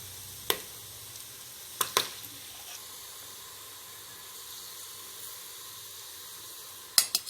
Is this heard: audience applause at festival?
no